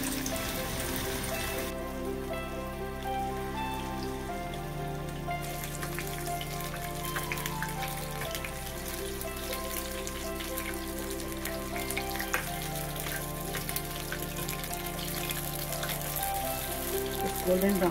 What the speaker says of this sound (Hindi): इसको हम फ्राई करेंगे। ये एकदम क्रिस्पी होगा पनीर